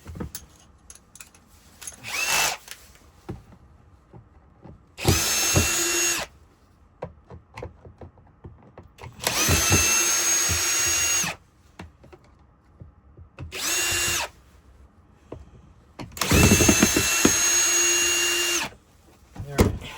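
A power drill backs screws out of the cyclone of a Hoover Elite Rewind vacuum in five separate whirring bursts of a second or two each, close and loud, with quiet handling between them.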